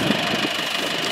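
A tractor engine idles steadily with a low, rough, knocking rumble while cattle feed is loaded on pasture, loud and close with no voices.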